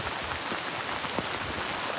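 Steady rain falls outdoors, drumming on surfaces as a dense, even hiss with scattered close drops, continuous for the whole stretch with no talking.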